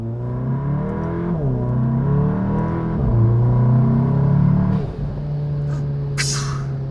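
A modified Volkswagen GTI revs loudly close by, the engine climbing and falling through several throttle blips before settling back to a steady idle, with a short hiss near the end.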